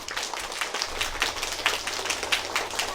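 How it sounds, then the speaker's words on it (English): A small audience gives a round of applause, with steady, fairly faint clapping that runs throughout without a break. "let's give Trump Vader a round of applause"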